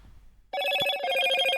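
A Motorola ringtone from a phone advert plays as a bright, loud electronic melody that starts abruptly after a brief quiet lead-in and sustains to the end.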